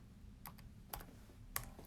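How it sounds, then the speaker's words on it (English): Faint, sparse keystrokes on a computer keyboard, three or four isolated clicks spaced apart over a low background hum, with no talking. "So I'm typing them in right now."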